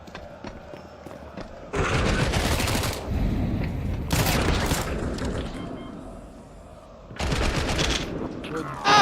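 Bursts of gunfire from a Counter-Strike 2 esports match, with dense rapid rifle volleys and sharp repeated shots arriving in loud clusters, separated by quieter stretches of game ambience.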